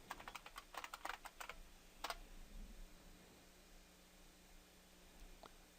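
A computer keyboard clicks as a password is typed at a Kali Linux login screen in VirtualBox, a quick run of close, crisp keystrokes followed by a firmer tap, then quiet room hiss.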